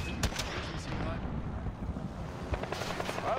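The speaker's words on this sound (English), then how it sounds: "Wait, there's two helicopters here." Helicopter rotor noise in Warzone, a continuous rumbling wash close by with sharp gunfire-like bursts layered over it and a voice speaking under the noise.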